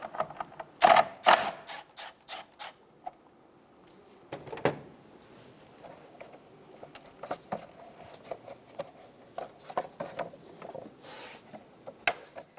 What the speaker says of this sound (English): Using a 10mm socket, loosen the top nut